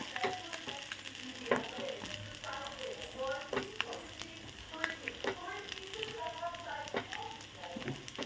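Cooked rice frying in a pan for egg fried rice, a low crackling sizzle broken by scraping stirs and spatula knocks, with someone speaking over it throughout.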